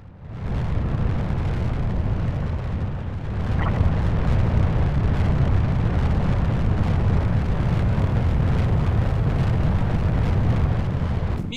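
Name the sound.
rocket engine thrust during launch in Kerbal Space Program video game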